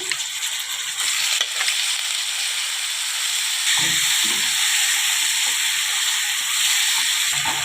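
Chicken sizzles in a pan with chili powder, a steady hiss of frying with a few scraping stirs partway through, continuous and fairly loud, with no speech over it.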